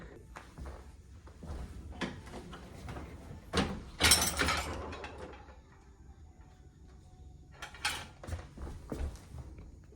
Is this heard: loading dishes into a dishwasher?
yes